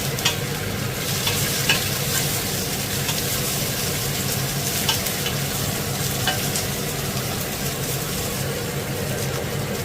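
Onions fry and sizzle in a hot, smoking pan for Bicol Express, a steady close hiss with scattered crackles and a low rumble beneath, without talk.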